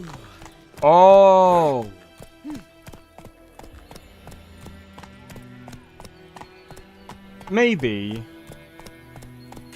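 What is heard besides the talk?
horse Roach trotting, from video game The Witcher 3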